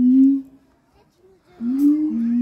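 Monkeys at the Zoo de La Flèche give loud, tonal, barking hoots: one short call, a pause of near silence, then a longer rising and wavering call close by.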